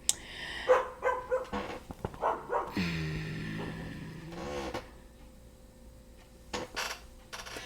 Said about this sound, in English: The neighbor's dog only barks like when a car is driving by or somebody's walking by.